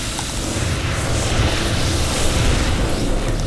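Protoss Nexus blowing up in StarCraft II, a loud rumbling explosion with broad crackling noise that holds steady over a few seconds.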